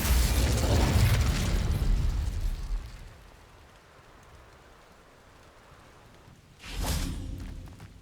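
A fiery Incendio spell cast in Hogwarts Legacy, a loud rushing whoosh of flame that fades after a few seconds, followed by a second sharp burst of fire near the end.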